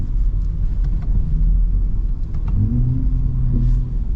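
A Ford Raptor truck's engine revving off-road, a deep, loud rumble that rises and falls in pitch across several seconds, with faint crackles that could be exhaust pops.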